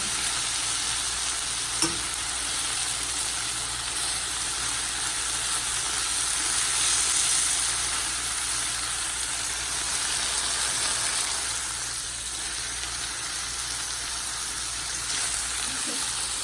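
Chicken pieces browning in a hot pan for a creamy garlic parmesan dish, a steady close sizzle and fry with occasional stirring and a brief clink, continuous throughout with no talking.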